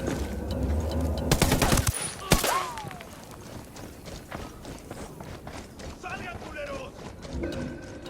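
Gunfire in Ghost Recon Wildlands: a rapid, loud burst of automatic fire ends in a sharp crack, followed by scattered distant shots and battle clatter, with voices shouting throughout.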